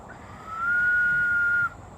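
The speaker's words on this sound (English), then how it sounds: "This is a natural gourd that is hollowed out to make a whistle." A whistle made from a hollowed-out natural gourd sounds one steady, pure tone held for about a second, close and fairly loud over a quiet room.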